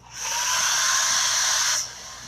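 A dryer blows on chalk paste on a 10-inch round board, a loud steady whir that starts just after the opening, holds for about a second and a half, then cuts off abruptly.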